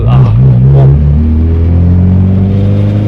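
A Honda Civic EK sedan with a K24 engine swap revs loudly from inside the cabin, its deep engine drone rising steadily in pitch as VTEC engages, over a constant road rumble.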